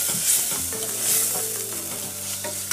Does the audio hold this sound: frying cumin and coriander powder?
yes